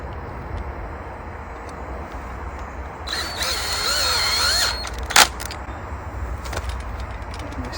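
Up close, a power drill drives bolts into an RV slide-out awning rail plate in one whirring burst of under two seconds, followed by a sharp metallic clack amid quiet background noise.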